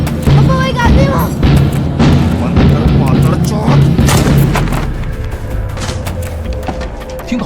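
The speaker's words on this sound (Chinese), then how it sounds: "听到枪声，小队立马赶到现场" Gunshots and heavy booms from an Indian Army zombie tunnel film thump repeatedly through a dense, loud mix, with voices talking throughout.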